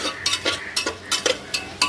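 Raw meat coated with mustard oil and spices is stirred and turned, a rhythmic series of wet scrapes and utensil knocks repeating roughly every quarter second, close and fairly loud.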